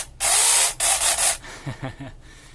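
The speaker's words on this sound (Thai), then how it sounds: "เสียงเอื่อยๆ แล้วนะครับ แบตหมดแล้ว" A cordless power saw whines in loud bursts, cutting out between them, then sputters weakly in short sagging pulses as its battery dies.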